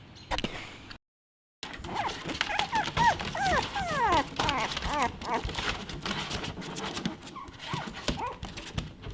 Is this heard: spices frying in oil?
no